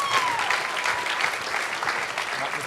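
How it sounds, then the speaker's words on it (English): Steady church audience applause as people make their way up to the front, continuous even clapping at moderate loudness throughout. "let's give them a round of applause as they come"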